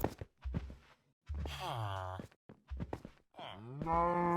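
Cow in the Minecraft video game mooing twice, each a drawn-out, loud, tonal low call, separated by short soft thuds and shuffling.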